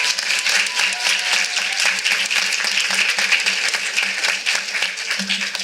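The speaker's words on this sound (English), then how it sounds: "Let's give our playwright a round of applause." A theatre audience applauds a playwright after a cold reading, with dense, steady clapping that fills the room at full volume for several seconds.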